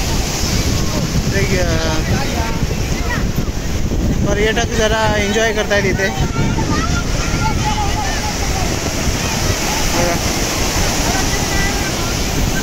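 Sea waves break on a busy Konkan beach at Ganpatipule, a constant loud roar of surf mixed with heavy wind buffeting the microphone while a person talks over it.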